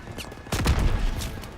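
Gunfire in Call of Duty WW2 during the beach storming: several sharp shots crack out in a close burst, with a short echoing boom tail behind them and no voices.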